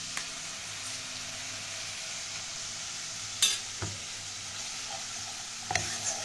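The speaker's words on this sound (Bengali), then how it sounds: "মশলাটা খুব ভালো করে কষিয়ে নেব" Cumin and green chili paste masala being fried in a pan, a steady low sizzle running the whole time, broken by a few sharp clinks and scrapes of stirring, with no talking.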